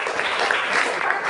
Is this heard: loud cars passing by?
no